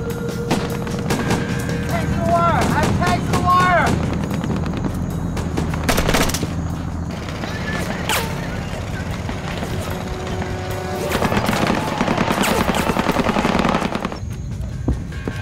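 Rapid bursts of automatic gunfire and single shots crackle through a firefight against North Vietnamese forces near Old Lang Vei, repeated volleys loud and close across the whole stretch, with occasional voices mixed in.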